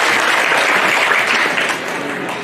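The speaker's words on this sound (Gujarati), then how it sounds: "જોરદાર તાળી." An audience at a community programme applauds loudly, a dense wash of clapping that fades slightly toward the end, with no speech over it.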